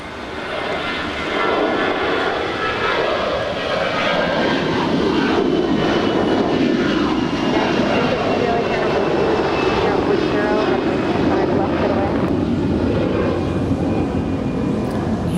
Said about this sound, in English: Here we've got American Flight 990 headed to Atlanta on an A321 that is 9 years old.